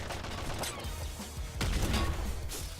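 Gunfire from the top-down shooter Nuclear Throne: quick clattering bursts of game shots and mechanical clicks over a busy, dense soundtrack, several sharp hits close together.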